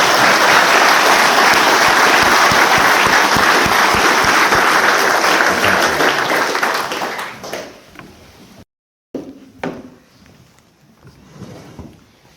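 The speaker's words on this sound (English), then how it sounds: "give a round of applause to our remarkable" An audience at an anniversary memorial meeting applauds its panellists with loud, dense clapping that fills the room for about seven seconds, then thins out and fades into scattered claps and quiet murmurs.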